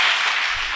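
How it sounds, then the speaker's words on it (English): A crowd of engineering students at BN College of Engineering in Pusad clapping together, a dense, loud wash of hand claps filling a brief burst with no voices over it. "I just want to make you to use full effort. So clap."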